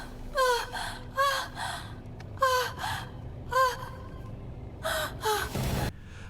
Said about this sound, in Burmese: ကားထဲမှာအားလုံးကြောက်လန့်တကြားနဲ့အသက်ရှူထမ်းနေမြန်းနေကြတယ်